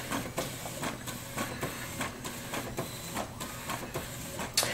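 A Brother MFC-J825DW inkjet printer prints a page, giving rhythmic mechanical whirs and regular clicks of the print head shuttling back and forth, close and fairly quiet, with a sharp click at the end.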